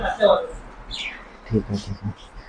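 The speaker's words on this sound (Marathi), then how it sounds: "ह्या ठिकाणी पक्ष्यांची पिल्ल आहेत थोडे पक्षी आहेत पोपट आहेत" Birds and parrot chicks chirp in a welding workshop, a few quick high tweets mixed with soft lower calls, while someone talks nearby.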